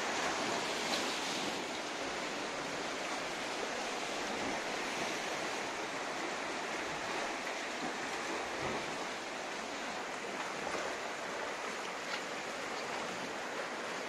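Sea waves at a stony beach in Montenegro in winter, heard as a steady broad wash of surf and water noise with no distinct breaks, moderately loud and unbroken, with no voices.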